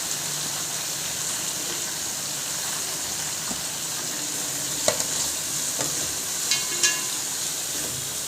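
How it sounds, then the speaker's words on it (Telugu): Ganga velli leaves fry in oil for chutney, a loud, steady close sizzle with a few scraping stirs of the spoon in the second half. "ఇందులోనే గంగ వెళ్ళి కూర వేసుకోవాలి నూనెలో బాగా మగ్గాలి"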